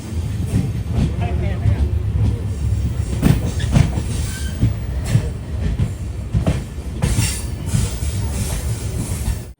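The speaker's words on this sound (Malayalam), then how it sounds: "ട്രെയിൻ ഇപ്പോൾ കളമശ്ശേരി റെയിൽവേ സ്റ്റേഷനിലേക്ക് എത്തുകയാണ്." Amrit Bharat Express sleeper train pulling into Kalamassery station, a steady loud rumble of wheels on rail with clanks and occasional squeals throughout, with voices speaking over it.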